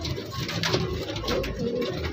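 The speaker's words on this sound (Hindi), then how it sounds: "जी ये देखें गोल्डन कबूतर है" Pigeons coo softly at a pigeon market, with a golden pigeon among the birds for sale, and low murmuring calls run steadily over a busy, noisy background.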